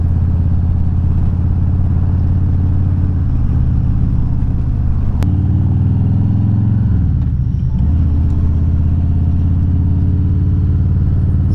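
A Harley-Davidson big V-twin motorcycle with an aftermarket exhaust idles and revs close by, a loud, deep, steady rumble with a brief throttle swell midway, no voices.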